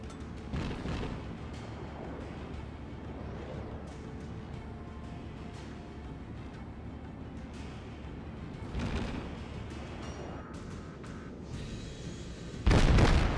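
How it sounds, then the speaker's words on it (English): Warship guns firing during a World of Warships naval battle, booming salvos over a steady rumbling engine and sea drone, with a strong burst near the start, another mid-way and a loud one at the end. "we need to turn starboard for all of our rear gun to fire"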